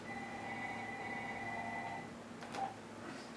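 A telephone on a new office phone system rings with a steady electronic trill for about two seconds, followed by a short clicking chirp, with a faint background hum.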